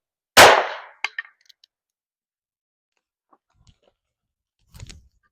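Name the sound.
22 revolver firing Federal Punch ammo into OSB board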